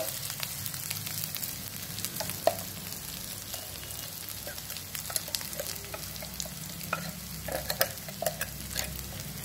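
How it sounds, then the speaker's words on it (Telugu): Sliced bitter gourd (kakarakaya) sizzles steadily in a pan as spice powder is stirred in, with the spatula scraping and clinking now and then over the close frying hiss. No one speaks. "బాగా కలుపుకొని ఒక 2 minutes బాగా వేయించుకోవాలి"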